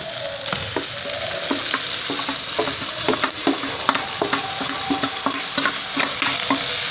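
Onion paste frying in hot oil for a village-style broiler chicken curry, with a loud, continuous sizzle and irregular stirring scrapes and clicks from a pan close by, and no talk.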